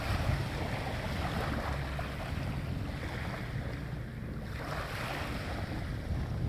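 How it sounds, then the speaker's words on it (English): Sea waves breaking on the shore on a sunny day, a continuous rushing wash of surf heavily mixed with wind buffeting the microphone, steady and fairly loud with no voices. "enjoy what I'm seeing at the minute, and the noise, the waves and that."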